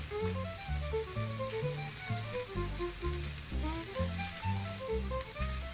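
Mozzarella-stuffed meatballs brown in a frying pan with a soft, steady sizzle that sits beneath louder background music.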